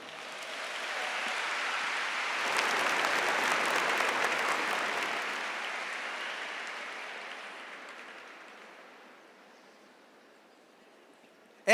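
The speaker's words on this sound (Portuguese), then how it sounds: "Aplauda essa palavra." Church congregation applauding during a Catholic sermon, a broad sustained wash of clapping that swells, holds, then gradually fades out, with no talk over it.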